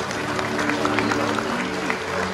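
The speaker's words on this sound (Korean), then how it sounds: "네, 다시 한번 큰 박수 부탁드리겠습니다." Audience applause at a wedding ceremony, a steady patter of many hands clapping throughout at moderate volume, with a voice speaking over it.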